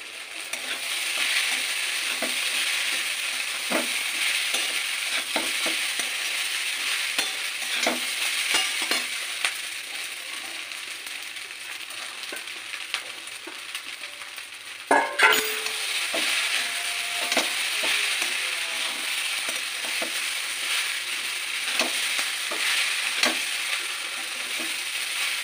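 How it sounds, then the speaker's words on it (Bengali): Sago pilaf stirred in a pan, a steady soft sizzle with repeated scraping clicks of a spoon, close up, with one sharper knock midway and no voices. "এইভাবে সমস্ত সাবুগুলো আমি আস্তে আস্তে একটু একটু করে দেবো আর একটু করে মেশাতে থাকবো।"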